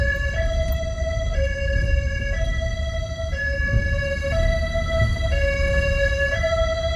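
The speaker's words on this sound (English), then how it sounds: "It's crazy to be driving down a road with the sirens on for a good reason." An emergency vehicle siren wails in a steady two-tone hi-lo pattern during a Fitch Mountain evacuation exercise, loud and close over low road rumble, repeating evenly throughout.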